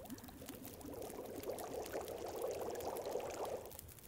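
Boiling water in The Long Dark, a soft steady bubbling and pouring texture, faint and close, swelling slightly then easing off, with no talk over it.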